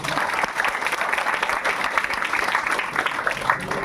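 Steady applause from a college lecture audience, a dense continuous patter of many hands clapping for several seconds.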